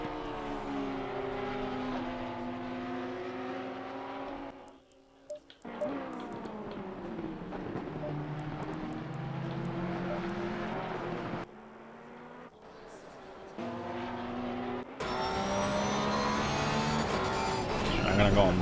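Racing Porsche and Audi GT cars lap Snetterton in Assetto Corsa Competizione, their engines whining and rising through gear changes, with brief dips and a louder surge near the end, all under steady race commentary.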